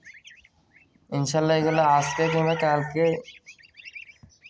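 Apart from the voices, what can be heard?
newly hatched goslings chirping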